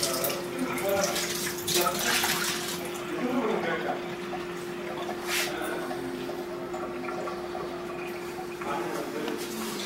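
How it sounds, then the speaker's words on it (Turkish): Water running steadily over the inner fan of a combi boiler during servicing, a continuous splashing, tap-like flow with faint drips under a low steady hum, with someone talking over it. "Ve su yardımıyla iç pervanesini yıkarız."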